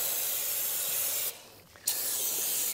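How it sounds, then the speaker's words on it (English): Steady close hiss of an aerosol spraying foam wheel cleaner onto motorcycle alloy wheels, broken by a short pause before the spray resumes. "You can buy a wheel cleaner. They're quite good stuff. You just spray it on."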